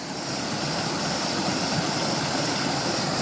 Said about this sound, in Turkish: Ama şu şelalenin sesi süper ya.